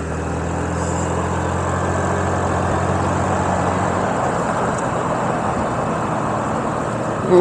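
A 4-wheel-drive car cruises along back roads, its engine and road noise a steady, loud interior drone with a low rumble that barely changes throughout, no voices.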